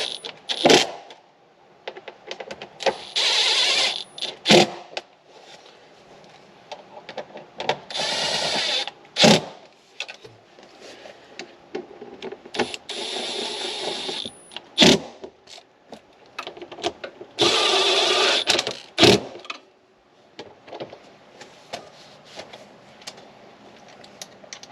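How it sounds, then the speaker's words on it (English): A Milwaukee power tool set to low torque backs out bolts during an oil change on a 2022 Can-Am Defender Limited, running in repeated loud whirring bursts of a few seconds each, separated by short quiet gaps. "Now I'm just going to use the trusty Milwaukee. I'm just going to put it on a low torque setting."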